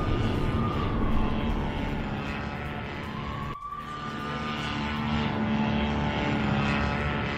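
A steady droning engine hum from a drone flying overhead during an attack, continuous and fairly loud, with a brief dip midway and a slowly rising pitch.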